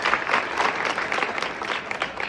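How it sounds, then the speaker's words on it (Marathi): A crowd claps to welcome a popular guest at a free gift giveaway event, dense steady applause throughout with a faint murmur beneath. "मग सर्वांनी सनीदादांचं टाळ्या वाजवून स्वागत केलं."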